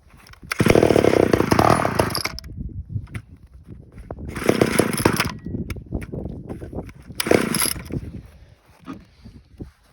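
A small carbureted chainsaw engine, long unused, is pull-started: three rough bursts of ratcheting starter-cord and sputtering engine noise, close and loud, separated by brief quieter gaps.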